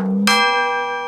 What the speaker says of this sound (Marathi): घंटी वाजाडतो रे.